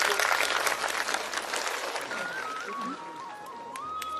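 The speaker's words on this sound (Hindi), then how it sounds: "मैं आपकी तालियों से प्रसन्न नहीं होऊंगा।" Audience clapping at a Hindi religious discourse, a dense wash of applause that is fullest at the start and then thins and fades a little, with a faint tonal whistle drifting through the background.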